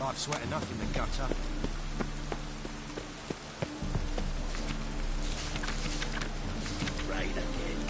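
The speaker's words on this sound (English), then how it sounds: "Rain again." Steady rain patters in The Witcher 3, with scattered drop hits and a dense hiss filling the scene, some game sounds mixed in.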